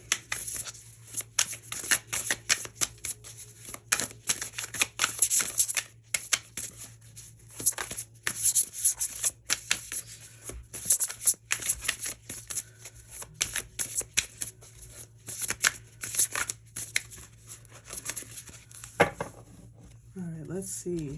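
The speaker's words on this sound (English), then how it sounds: "I'm gonna put them back in the deck and reshuffle." A deck of tarot cards is shuffled by hand up close, with repeated riffling and flicking bursts in an uneven rhythm, and a voice briefly speaks near the end.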